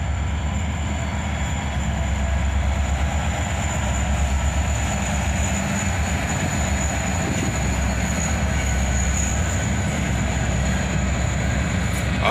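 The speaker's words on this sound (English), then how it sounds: "Awesome EMD power as an SD43 and an SD42 lead a northbound train across the bridge" A northbound CSX freight train led by EMD SD43 and SD42 locomotives crosses a bridge, producing a loud, steady rumble of engines and rolling wagons with a high sustained tone above, continuous and without talking.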